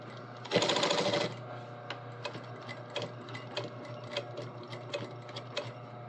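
A sewing machine stitches the outside leg seam of a garment: a short burst of rapid, loud stitching, then slower, evenly spaced mechanical clicks and taps close by, with no voices.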